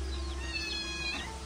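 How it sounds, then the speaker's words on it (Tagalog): A nearby cat gives a drawn-out, wavering meow over a steady low hum in the background. "Ayun na yung pusa. Nangingiyaw-ngiyaw na."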